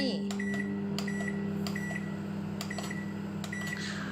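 A microwave hums steadily while a series of short, evenly spaced beeps sound over it, nearby and clear.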